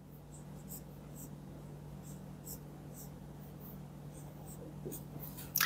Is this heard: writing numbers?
yes